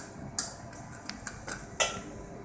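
Opening a 1 gram glass bottle of p-anisidine produces a few sharp clicks and light taps of cap and container, close and distinct against a quiet room.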